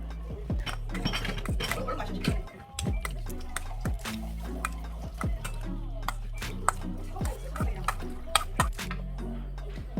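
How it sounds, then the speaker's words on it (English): A spoon clinks and taps repeatedly against a bowl while tomato bruschetta topping is mixed with salt and black pepper, the sharp chinks coming up close and irregular over a low steady background. "and just mix it"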